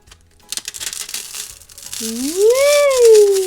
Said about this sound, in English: So I'm going to use this foil and try to, make it shiny and pretty.